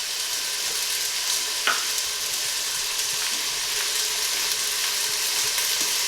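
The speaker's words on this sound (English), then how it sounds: "while that's browning in the oil" Steady, close sizzling and crackling of lamb browning in hot oil for stew, continuous throughout with a small clink partway through and no talking.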